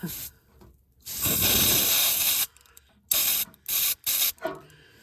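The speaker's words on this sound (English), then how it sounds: "So you just want to spray that on there." Aerosol battery terminal cleaner, non-flammable, sprayed onto a lawnmower or tractor fuse: one long hissing burst, then three short spurts close to the microphone, with quiet gaps between.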